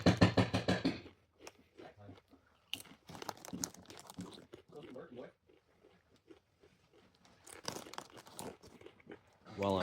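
Someone chews a crunchy snack up close during a break from a go-kart build, with irregular crunches and bites between stretches of talking at the start and end.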